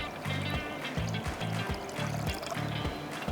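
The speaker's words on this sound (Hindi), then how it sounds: "ये देखें, प्रॉपर ठंडा पानी," Chilled cold water is poured at a kitchen station while zinger burgers are being prepared for frying. The pour is a steady, close trickle with soft splashing and light background kitchen noise.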